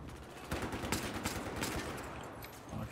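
Desert Eagle pistol shots in a video game crack out in a quick, uneven string of several reports over a busy, noisy game backdrop, moderately loud, with no voices.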